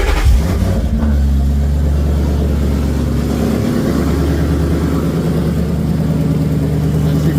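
A Coyote V8 swapped into a Ford Ranger starts and runs, its deep engine note steady and close with a slight rise in revs, continuous throughout with no talking.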